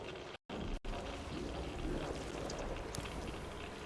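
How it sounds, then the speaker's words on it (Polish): Water drains and pours steadily in the video game Metro Exodus, a dense continuous flow with a brief cut near the start, with no voices. "tutaj woda się po prostu opuszcza"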